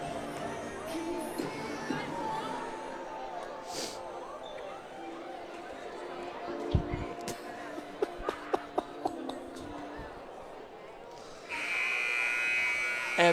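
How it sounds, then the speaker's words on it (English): A high school boys and girls basketball game between TCA and Union City, with crowd murmur and a few ball bounces, then a loud, sustained electronic buzzer sounding through the gym for the last couple of seconds. "I was waiting for that buzzer."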